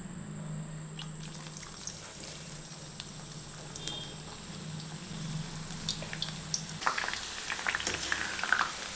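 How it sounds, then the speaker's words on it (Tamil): Okra (ladies finger) slices deep-frying in hot oil over a high flame: a steady, faint sizzle and bubbling hiss, with a few soft clinks and pops toward the end. "இப்போ நம்ம வச்சுருக்கிற வெண்டைக்காவை கொஞ்சம் கொஞ்சமாக போட்டு பொரித்து எடுத்துக்கலாம்."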